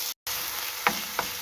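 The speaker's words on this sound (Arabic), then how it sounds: "غنشحروا مع هاد البصله هادي هكا، نخليوها طيح." Onion and garlic sizzle steadily in homemade olive oil in a pan, a close, even crackle with a brief dropout near the start and a couple of soft stirring clicks.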